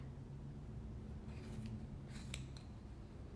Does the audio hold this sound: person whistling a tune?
no